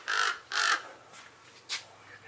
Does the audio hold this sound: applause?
no